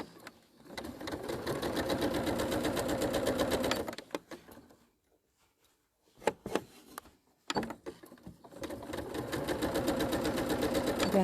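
A sewing machine runs in fast, steady bursts while stitching quilt wildlife panels together, pausing briefly with a few short stitches in between before resuming its rapid rattling.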